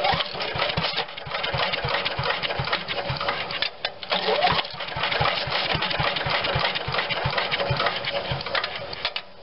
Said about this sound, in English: let's just give it a little prime just to get it started, and let's see if she'll run.